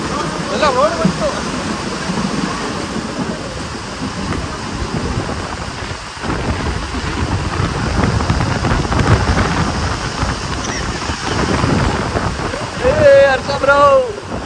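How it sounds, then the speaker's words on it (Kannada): Heavy rain pours through a thunderstorm in Mangaluru while strong wind roars across the microphone, making a dense, steady rushing wash. Brief voices come through near the end. "ಅಷ್ಟು ಜೋರು ಮಳೆ ನೋಡ್ತಾ ಇರೋದು."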